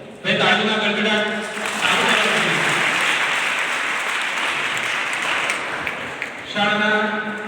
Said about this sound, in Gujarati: ભાઈ તાળીના ગડગડાટ